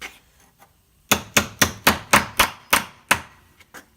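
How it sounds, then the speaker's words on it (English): Hammer blows striking a part into the B&M automatic ratchet shifter linkage of a 1972 Pontiac Lemans GTO, eight sharp evenly spaced metallic hits close up, preceded by a few faint taps. "So now I just got to smash this in here. Probably with a hammer."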